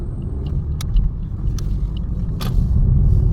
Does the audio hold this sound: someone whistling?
no